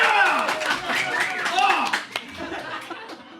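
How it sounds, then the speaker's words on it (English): A live audience at a financial independence camp panel claps and cheers near the microphone, with chuckles and voices mixed in, tapering to scattered claps and chatter. "They're cheering right now."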